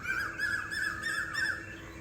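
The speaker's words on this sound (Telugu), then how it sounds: "అదేదో కోయిల అనుకుంటా, చూడండి ఎలా అరుస్తుందో." A koel calls in the early morning, a repeated rising bird call at moderate distance, steady over a quiet outdoor background.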